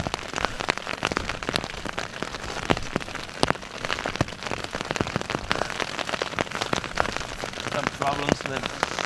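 Steady rain patters and drips onto a close shelter surface, with scattered sharper drops tapping throughout and no talk.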